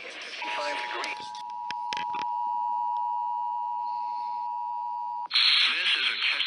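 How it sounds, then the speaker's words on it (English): Steady electronic alert tone, a long single-pitch beep sustained for about five seconds, as used in an emergency alert system and NOAA weather radio test broadcast; a broadcast voice is heard before the tone and noisy audio resumes after it. "This is a test of the emergency alert encoding system and the NOAA weather radio alarm"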